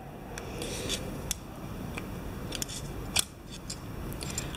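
A screwdriver twists a circlip off a Nexus 3 speed bicycle hub, with close, steady metallic scraping punctuated by a couple of sharp clicks.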